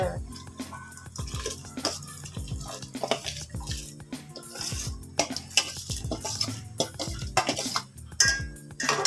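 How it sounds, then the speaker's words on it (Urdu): Mashed rice tipped into a pot of boiling water on the stove for Pakistani rice kheer, with repeated clattering spoon and pot knocks and stirring scrapes over a steady bubbling, fairly close and busy throughout. "ابھی ہم اس میں چاول ایڈ کریں گے جو میں نے چاول میش کر کے رکھے ہوئے ہیں"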